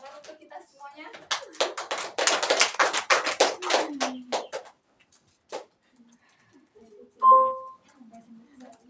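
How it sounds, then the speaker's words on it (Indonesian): A classroom bursts into brief applause, a dense run of many hands clapping for about three seconds before fading into a few scattered claps and quiet voices. "Tepuk tangan untuk kita semuanya"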